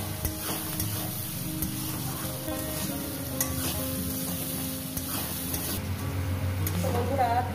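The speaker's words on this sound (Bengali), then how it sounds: "পেঁয়াজটাকে সুন্দর করে ভেজে নিয়েছি" Onions frying in a pan for a spicy fish curry, with a steady sizzle and occasional stirring underneath continuous talk.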